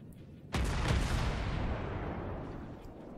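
A single heavy salvo of warship guns in the naval combat game World of Warships, fired at the Kawachi: one sudden loud boom followed by a long, rumbling decay, with no talking.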